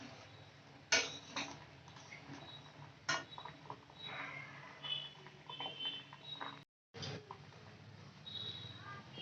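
A utensil stirs chalta and cucumber chutney simmering in hot water in a pan, giving quiet, intermittent clinks and scrapes against the metal with a brief pause partway. A voice speaks softly throughout.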